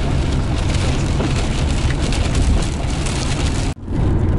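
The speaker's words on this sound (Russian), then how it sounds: "Дождь, тут дождя даже не было, за нами прям гонится" Rain falls on a moving car on a road near Yekaterinburg, making a loud, steady hiss and drumming that is nearly constant, cut by a short sudden dropout near the end.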